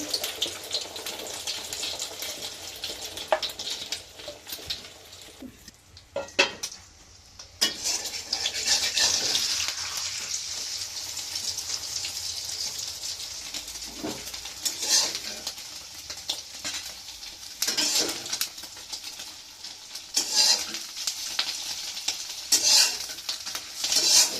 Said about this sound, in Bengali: তেল গরম হয়ে গেছে, তেলের ভিতর দিয়ে দিচ্ছি।